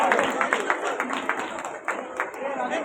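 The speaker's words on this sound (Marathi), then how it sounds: "जरा जोरदार बहारदार टाळ्या व्हायला पाहिजेत." Audience at a village social service association's 75th anniversary celebration claps in a steady, moderate round of applause, with talk over the clapping throughout.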